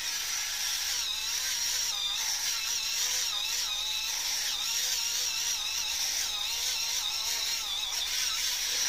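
A Faberlic electric facial cleansing brush runs continuously with a steady high-pitched motor whine and faint wobbling modulation as it moves against skin, close and alone.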